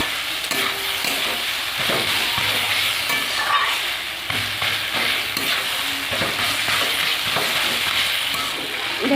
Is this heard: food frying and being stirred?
yes